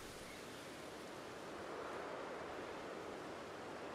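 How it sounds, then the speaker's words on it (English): Continuous rushing roar of a waterfall in Pokémon Legends: Arceus, a video game, steady and fairly faint, with no speech over it. "Yeah, because there's the waterfall."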